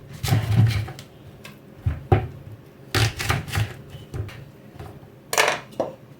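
A knife chops a red onion on a board, with close, uneven clusters of sharp knocks and crunches separated by short pauses.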